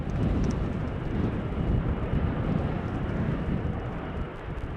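A jet airliner lands on runway 24 at Amsterdam Schiphol Airport in gusty crosswind conditions, a steady broad roar of engines and wind rumble sustained evenly throughout.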